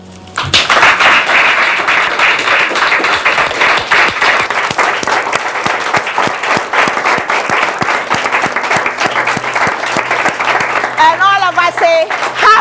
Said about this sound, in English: May we applaud such men.